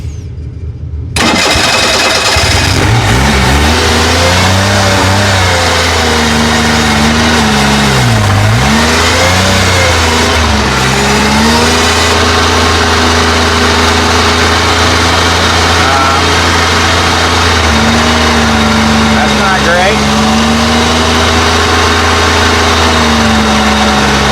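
An abandoned police car's engine starts with a burst and then runs loud and close, revving up and down before settling into a steady idle, with people talking over it.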